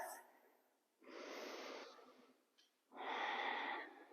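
Slow, deep breathing during a yoga hip stretch: two long, soft, airy breaths, each lasting about a second, close and quiet, with a brief pause between them.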